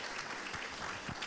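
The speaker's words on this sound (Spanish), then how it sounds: "cada intervención de nuestros invitados sea cerrado con un aplauso" Brief round of audience applause after a presentation at a seminar, soft and somewhat distant, with a steady patter of clapping hands.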